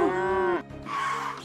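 Cattle low twice in a cartoon farm scene, a long, loud, falling moo followed after a short gap by a second, steadier call, with no talk over them.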